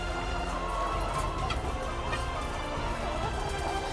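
Farm chickens cluck quietly in a steady low background murmur, faint and continuous, with occasional soft clucks rising above the din.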